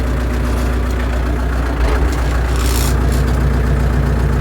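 A tractor engine runs steadily in second gear with its disc harrow lowered, a continuous low heavy rumble with a slight swell midway, close and loud with no voices.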